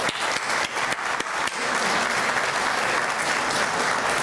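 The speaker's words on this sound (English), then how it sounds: "Let's give Mickey another round of applause." A luncheon audience in Cleveland breaks into a full, steady round of applause that fills the whole stretch, with a few sharper claps standing out early on and no talking over it.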